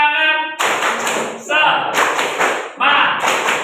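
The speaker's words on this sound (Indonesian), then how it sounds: "Tepuk semangat." A group of people performs the tepuk semangat clapping chant, several bursts of loud, rhythmic unison claps with voices chanting between them at close range.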